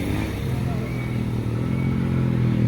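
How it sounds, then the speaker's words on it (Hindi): A rally motorcycle, apparently a Hero Xpulse, rumbles in at the stage finish line of the Sajoba rally, its engine droning steadily and growing slightly louder, with faint voices in the background. "फर्स्ट स्टेज की पहली बाइक आ चुकी है।"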